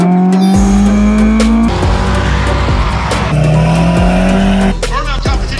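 A Honda Rebel 1100 motorcycle rides off, its engine revving loudly and rising in pitch through the gears, close and continuous throughout.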